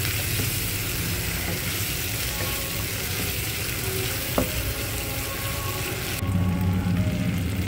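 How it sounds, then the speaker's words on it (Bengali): Ginger-garlic paste frying in a pan for a prawn and vegetable curry gives a steady, close hiss and crackle with a single sharp clink partway through, and the sizzle rises and grows coarser near the end. "এরপর আদা রসুন বাটা দিয়ে দিলাম, আবার ভালো করে কষে নেব।"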